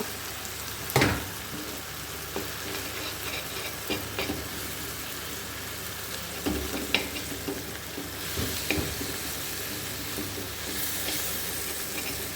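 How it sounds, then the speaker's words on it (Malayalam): Tomato, dry fish and spice masala, with ginger, garlic and green chilli, sautéed in a pan in a Kerala-style recipe, giving a continuous close sizzle broken by sharp scrapes and clatters of stirring. "എല്ലാം കൂടെ ചേർത്ത് അങ്ങോട്ട് വഴിച്ചെടുക്കുക നമ്മുടെ തക്കാളി ഇഞ്ചി വെളുത്തുള്ളി പച്ചമുളക് മസാലപ്പൊടി എല്ലാം കൂടെ ചേർത്ത്"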